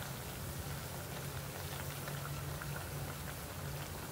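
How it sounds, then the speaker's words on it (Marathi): Coriander vadi fry in hot oil, a dense, even crackling hiss that holds steady and fairly quiet throughout. "दोन्ही बाजूने आपल्याला अशा खरपूस तळून घ्यायच्यात वड्या"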